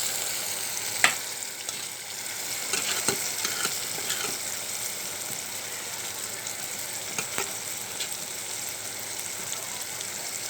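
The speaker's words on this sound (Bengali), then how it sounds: "এখন আমি মাছগুলো ঢেলে দেব। কেচকি ধুয়ে রাখা কেচকি মাছগুলো এই যে দিয়ে দিচ্ছি।" Small kechki fish sizzle steadily as they fry in a pan, a constant bright crackle with occasional sharper pops and faint scraping, moderately close and with no voices.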